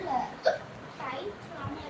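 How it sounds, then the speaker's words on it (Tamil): A single short hiccup bursts out near the middle of a quiet indoor moment, with faint children's voices and soft talk around it. "விக்கல் வருதா?"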